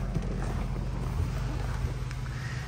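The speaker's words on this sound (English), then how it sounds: "It is a remarkably quiet car." A 1999 Jaguar XK8 sports car engine idles smoothly and quietly, a low steady rumble with a faint airy hiss and no revving.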